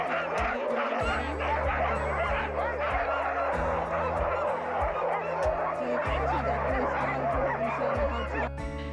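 A pack of husky sled dogs barks and yelps in a loud, continuous, chaotic chorus outdoors in snowy winter country, overlapping howls and yaps close by with no break.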